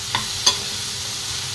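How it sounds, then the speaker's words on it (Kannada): Okra frying over a low flame gives a steady hiss of sizzling oil, broken by two brief sharp clinks near the start, close and moderately loud. "ಇದು ಸಣ್ಣ ಉರಿಯಲ್ಲಿ ಚೆನ್ನಾಗಿ ಫ್ರೈ ಮಾಡಿಕೊಂಡ್ರೆ ಬೆಂಡೆಕಾಯಿ ಫ್ರೈ ರೆಡಿ ಆಗುತ್ತೆ"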